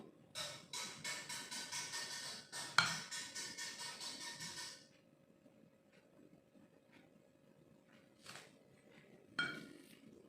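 A spoon stirs risoles mayo filling seasoned with salt, pepper powder and mushroom broth in a pan, making quick, rhythmic scraping clinks for about five seconds, then a few sparse, fainter taps near a quiet background.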